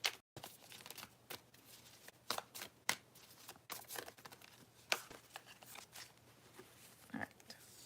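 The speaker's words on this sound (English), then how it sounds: "I am shuffling these cards." A deck of tarot cards is shuffled by hand in quiet indoor surroundings, bursts of soft riffling and flicking papery rustles that come and go irregularly at close range.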